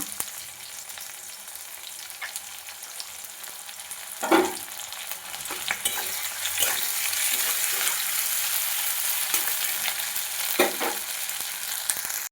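Cauliflower frying with ginger in a pan, a continuous loud sizzle that swells midway, with a few clanks of a spatula stirring.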